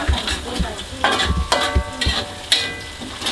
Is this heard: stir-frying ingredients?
yes